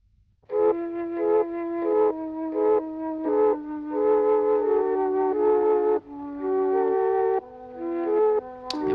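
A mellotron on its flute setting opens a song with a clear breathy melody of sustained notes over chords, alone and with no voices.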